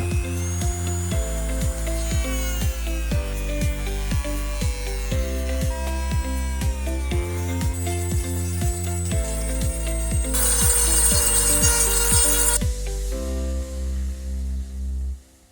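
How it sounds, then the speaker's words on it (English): A Dremel rotary tool grinds a car grille logo mount on a Skoda pick-up, a close, high-pitched whine whose pitch dips and recovers with each pass, then a harsher grinding stretch before it winds down. "So let's go to use my Dremel."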